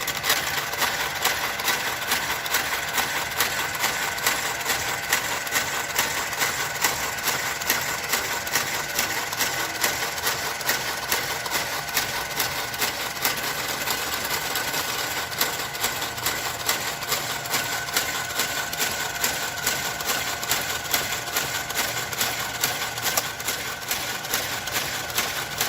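A knitting machine carriage sliding back and forth across a jacquard blanket, a continuous mechanical whirring and clatter with a steady fine rhythm, fairly quiet and close, running without a break.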